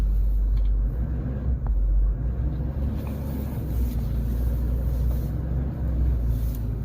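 A 2008 Ford F350 6.4L diesel engine warms up at idle, a steady low rumble that stays close and even throughout with faint wind noise.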